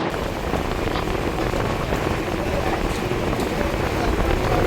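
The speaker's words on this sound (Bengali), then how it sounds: "এখন হুট করে ঝড় বৃষ্টি নামারই সময়, কিন্তু খোলা নদীতে এমন বাতাসের মধ্যে পড়েছি আমরা" Stormy rain and wind sweep over an open river in the Sundarbans, heard from a boat as a dense, constant roar and hiss without pauses.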